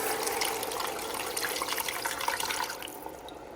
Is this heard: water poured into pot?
yes